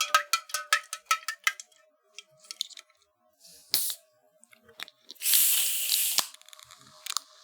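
Several Faygo cola cans cracked open one after another, with a burst of fizzing spray as one opens, followed by sharp clicks and crinkles, all close and loud.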